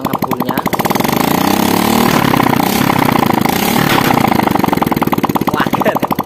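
A motorcycle engine from a bike that still blows white smoke after an engine rebuild, revved up close in a steady loud rise and fall of throttle blips over a rough, pulsing exhaust note.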